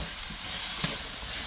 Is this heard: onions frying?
yes